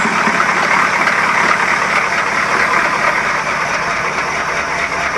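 A 1993 GMC 6.2 L diesel engine runs after a cold start at 19°F, a loud, steady clattering idle heard close and continuous with no talking.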